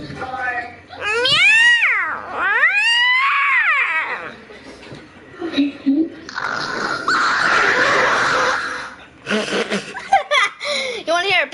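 A person imitates cat sounds, voicing rising and falling meows and yowls, then a rough hissing stretch and a few more squeaky cries, loud and close, with laughter around them.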